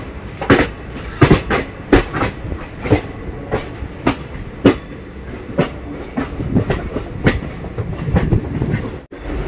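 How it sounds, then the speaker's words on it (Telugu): A train rolls through thick forest, its wheels beating a steady, fairly loud clickety-clack with sharp, regular rail-joint knocks across the whole stretch and no voices. "అదండి పాము మెలికల మధ్యన ట్రైన్ వెళ్తూ ఉంది."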